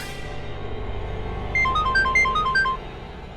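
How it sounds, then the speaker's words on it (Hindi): A phone ringtone plays a short electronic melody of repeated beeping notes over a low background rumble. "बुल्टो को फोन लगा दो"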